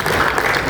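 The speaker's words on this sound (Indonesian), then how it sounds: "Tepuk tangan untuk kita semua." Brief burst of dense applause from attendees at a Democratic Party regional political gathering in West Java, steady and fairly loud throughout its short span.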